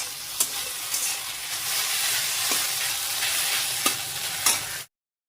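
Maggi noodles sizzle in a pan, a steady close crackle with a few sharp scrapes and clinks as they are stirred, and it stops abruptly before the end.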